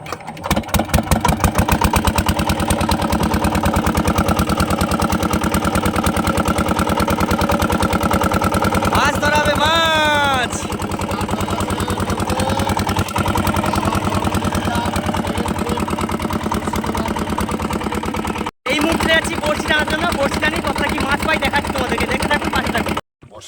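A boat's engine on a river, during a fishing trip, starts up and runs with a steady, loud mechanical drone. It continues almost the whole time, with brief dropouts and a squealing burst near the middle.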